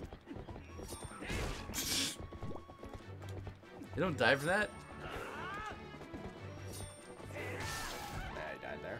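Horse hooves clip-clop and a horse whinnies in The Legend of Zelda: Twilight Princess HD, with crashing game effects mixed in and people talking over much of it.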